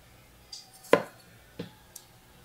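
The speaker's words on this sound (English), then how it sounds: "y'all can see I'm not slicing this tomato" A knife cutting through a green tomato on a board, a few sparse, separate cuts with one louder thunk in the middle and small softer taps around it, close and otherwise quiet.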